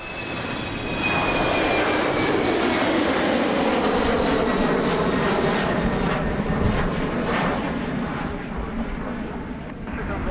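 A KLM Cityhopper airliner roars steadily at Amsterdam Airport, its broad, loud engine noise with a high whine holding for several seconds before easing slightly near the end.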